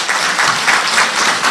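A short, loud burst of crowd applause, close and continuous, with clapping that swells slightly in waves through its brief length.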